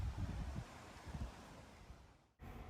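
Wind gusts outdoors among eucalyptus gum trees, a rough, buffeting rush against the microphone that fades toward the end.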